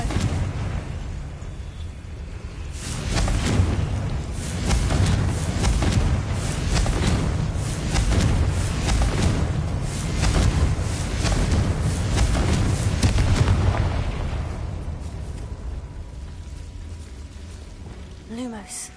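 Confringo blasting spells go off repeatedly in Hogwarts Legacy, a series of loud booming explosions with rumbling bursts over about twelve seconds, fading toward the end.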